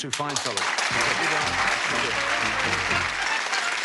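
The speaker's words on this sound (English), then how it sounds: "Give them a round of applause." Studio audience applause at a televised darts game show, loud and sustained for the whole stretch, with a host's voice speaking over the clapping at the start.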